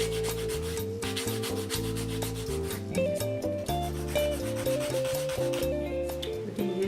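Rapid rhythmic rasping as a file shapes dried acrylic nails, continuous and close, with a steady tonal drone running underneath.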